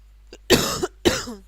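Two harsh coughs close to the mic, preceded by a small throat sound, with short pauses between them.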